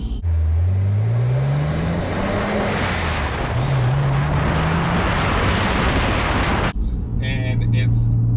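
A supercharged E85 BMW E46 M3 revs under load, its engine tone climbing in two rising pulls over heavy road and wind roar, then settling to a steady lower drone as the rush suddenly drops away.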